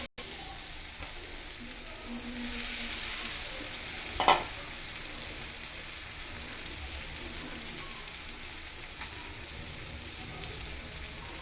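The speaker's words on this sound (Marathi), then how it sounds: "कांदा आणि टॅमॅटो छान परतून घेतलेला आहे" Onion and tomato sautéing in a pan for poha, a steady close sizzle and crackle with stirring sounds and a brief louder clatter midway, continuing evenly throughout.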